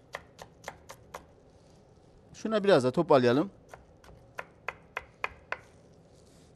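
A knife finely chops onions on a board for potato köfte in crisp, evenly spaced taps, pausing briefly while a person speaks, then resuming at a steady rhythm.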